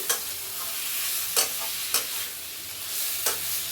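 Chopped shrimp with poppy seed paste and a little water is stir-fried in a pan: a steady close sizzle with several crisp spatula scrapes at irregular intervals.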